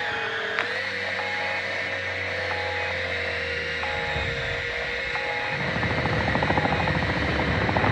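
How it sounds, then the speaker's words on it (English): A cargo helicopter in a video game flies steadily overhead, its continuous droning hum and rotor whine holding level throughout, with a faint rising chatter toward the end and no one speaking. "Cargo helo is en route to the AO."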